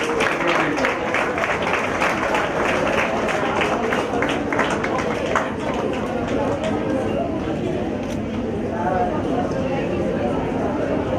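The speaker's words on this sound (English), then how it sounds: "You can clap together." Audience at an intra-collegiate college event claps together steadily and continuously, a dense mix of hand claps with crowd noise and voices mixed in throughout.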